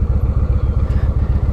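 Stock exhaust on a Yamaha Warrior 1700cc motorcycle idling close by, a loud, steady low growl with a regular lumpy pulse.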